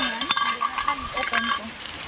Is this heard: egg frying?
yes